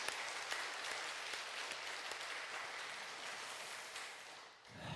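Faint, distant applause from a church congregation during a Sunday service, a soft continuous wash of many hands clapping that dips briefly near the end.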